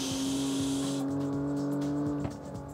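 Car in the CarX Street racing game firing its nitro boost, a steady droning engine tone with a hissing rush that cuts off partway through, leaving a quieter engine hum.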